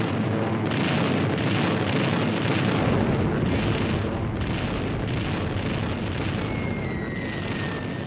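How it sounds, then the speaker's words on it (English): Allied bombardment of the Normandy coast roars as a dense, continuous barrage of explosions, loud and rumbling throughout with heavy overlapping blasts and no talking. "Durante a noite, os aliados bombardearam a costa da Normandia."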